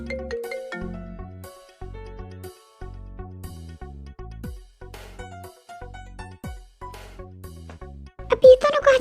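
A phone rings with a bright melodic ringtone, a tinkling repeated tune that carries steadily for several seconds at moderate volume, with no talking over it.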